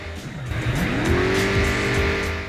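Car in the video game Crackdown, its engine revving up in a rising whine that holds high and steady, tires squealing, loud and close over a rough background rumble.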